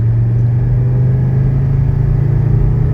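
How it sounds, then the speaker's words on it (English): A 1985 station wagon with a healthy engine accelerates at full throttle through a 0-60 run, a loud, steady low engine drone and road rumble heard from inside the car, with no voices. "I'm going to do a 0-60 because this engine is very healthy"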